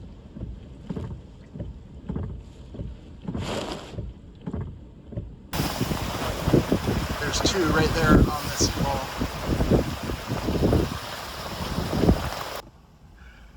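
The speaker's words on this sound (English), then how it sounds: "the storm grew in intensity again, and the waves built higher and higher." Tropical storm wind roars loud against the microphone around a moored Cabo Rico 34 sailboat in Gulfport, Florida, with waves slapping and rumbling steadily, and a person speaks briefly before the gusts build.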